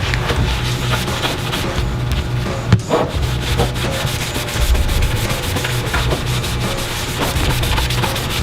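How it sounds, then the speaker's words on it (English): Continuous loud, close scrubbing and rubbing of a mop soaked in methyl hydrate buffing graffiti ink off a surface, steady and dense with one brief knock partway through. "So let's start by buffing the ink one. We're gonna try with the methyl hydrate first."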